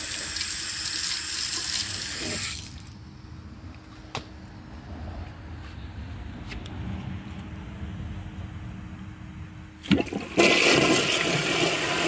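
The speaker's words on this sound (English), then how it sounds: "I'll give you guys one more flush" A high-tank toilet flushing: a loud rush of water at the start, a long quieter trickle and gurgle as the tank refills, then another strong burst of water at the end.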